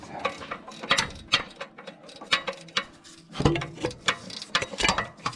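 Hand ratchet loosening the torque converter bolts on a 6L80 transmission in a Tahoe or Silverado, a rapid series of sharp close clicks in uneven bursts, with a short pause midway.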